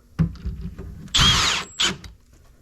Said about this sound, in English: So I'm going to attach these glides to the frame.